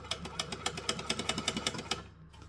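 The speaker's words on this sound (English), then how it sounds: "So then we're going to stitch, back stitch," Sewing machine running a fast, even burst of stitches through thin, tight fabric, a rapid rhythmic clatter that carries on for about two seconds and then stops; close and clear, with no talking.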